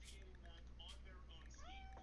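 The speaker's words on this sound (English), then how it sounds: "My fucking cat." A hungry house cat meows a few times close by during a live stream, short rising calls standing out over a steady low hum, with a voice nearby.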